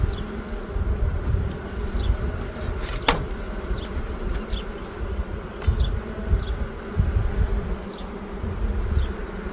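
Honey bees buzz steadily over hive frames, a dense continuous drone with individual bees passing close now and then, no talk.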